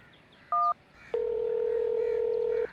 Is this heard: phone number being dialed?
yes